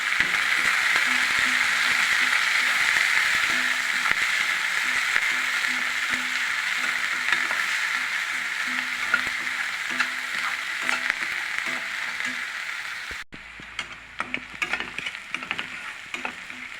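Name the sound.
chopped onion and curry leaves frying in a pan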